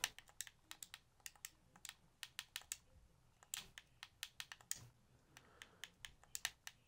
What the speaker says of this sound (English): I'll just type it in